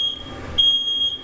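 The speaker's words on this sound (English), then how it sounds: "the stove just set off the alarm" A smoke alarm set off by a newly installed stove shrieks in loud, piercing high-pitched beeps, one long tone, a short gap, then another sustained blast close by.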